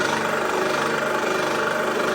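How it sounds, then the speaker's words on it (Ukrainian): The motor of a 50-ton hydraulic press hums and rattles steadily with a dense, even mechanical drone as it builds pressure, close by and continuous for the whole moment. "нажимаємо на кнопку, запускається мотор, в свою чергу тиск піднімається і шток нас опускається"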